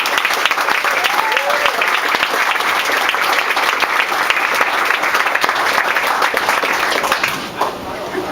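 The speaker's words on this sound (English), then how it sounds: "I certainly would like for everybody to give them a round of applause for what they did for us" Sustained, loud audience applause fills a going-away party and fundraiser, dense clapping from a large crowd continuing without pause.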